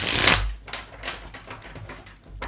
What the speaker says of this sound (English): Quick shuffle or two.